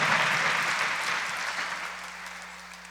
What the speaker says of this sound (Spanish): Por favor, Gabriel, lo recibimos con un fuerte aplauso